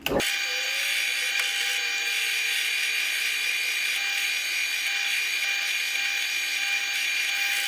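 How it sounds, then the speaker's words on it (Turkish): A pillar drill motor spins up and runs at a steady high whine, close and continuous, with faint bursts of grinding as it bores a hole into a screw with a stripped head. "sütunlu matkap kullanacağım"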